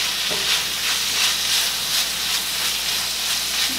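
Italian sausage fries in a pan with a loud, close, continuous sizzle and hiss, pulsing gently as it is stirred, with no talking.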